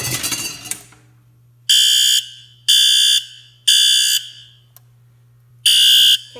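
A fire alarm system under test in a fire house garage sounds four loud, near electronic alarm blasts, each about a second long and separated by short silences, over a steady low hum.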